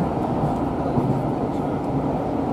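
Steady low rumble of a train rolling along the rails toward London Euston, heard from inside a carriage, continuous and fairly loud, with no clear voices.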